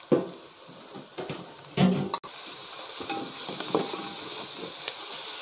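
Ginger garlic paste stirred into onions frying in oil for chicken dum biryani, giving a steady sizzle broken by a few louder scrapes and clanks of the spoon against the pan.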